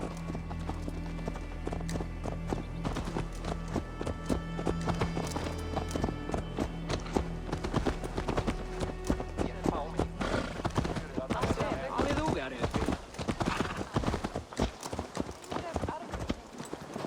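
A horse's hooves clip-clop at a steady walking pace in Assassin's Creed Valhalla, the beats close and clear, with voices heard at times.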